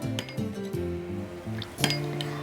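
A spoon clinks and taps against a small bowl while green tea water and honey are stirred together, a series of close, light ceramic and metal knocks at an uneven rhythm with no talking.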